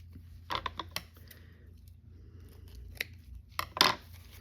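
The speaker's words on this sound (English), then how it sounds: "I need some scissors just to cut the string off the bag" Scissors snip through string on a bag in a craft room, a few quiet separate cuts with creaking blade sounds spread across a low hum, ending in a louder burst of snips near the end.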